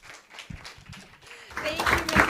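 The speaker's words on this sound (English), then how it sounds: "So give yourselves your own round of applause." Audience applause at a school veggie challenge event, starting as scattered claps after a voice and swelling into fuller clapping toward the end.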